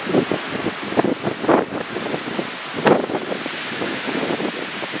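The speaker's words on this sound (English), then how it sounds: "Damn, it's like a storm blowing up." Strong gusty wind roars outdoors at Fort Bridger, Wyoming, buffeting the microphone in loud, uneven surges like an approaching storm, with rustling underneath and no talk.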